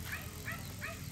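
Three quick, faint dog barks in an even rhythm, somewhat distant, with no talking.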